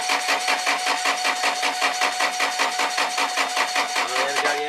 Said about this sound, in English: let's crank it over and see if we've got any diesel coming through